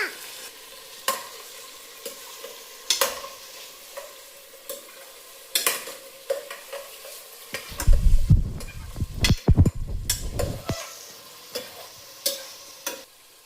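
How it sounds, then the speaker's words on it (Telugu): Tomato added to a frying pan and stirred: repeated scraping and clacking strokes of a spoon against the pan, close and irregular, swelling midway into a louder burst of sizzling and vigorous stirring before easing back to sparse scrapes, with no speech. "ఇందులో కొంచెం గోలిన తర్వాత ఇలా టమాటో యాడ్ చేయాలి. నేను కలుపుతా."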